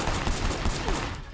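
Rapid gunfire crackles in the video game Sleeping Dogs, a dense continuous burst of shots filling the moment at close range.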